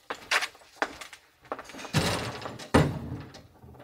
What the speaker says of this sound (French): Permettez que j'ouvre la fenêtre.